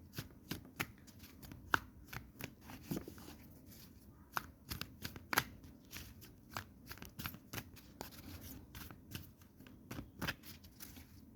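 A deck of tarot cards being shuffled close up, a continuous flurry of crisp flicking and riffling card slaps with no voices.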